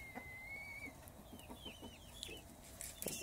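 Chickens cluck softly in a backyard coop, a series of short, faint clucks scattered over quiet outdoor ambience, with a higher bird call rising briefly near the start.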